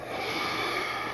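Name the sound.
woman snoring during sleep study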